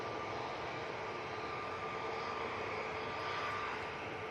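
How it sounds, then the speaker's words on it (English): An EasyJet airliner on its takeoff roll at Manchester Airport gives a steady, distant jet roar, faint and unbroken, with no voices. "It's EasyJet's on the roll."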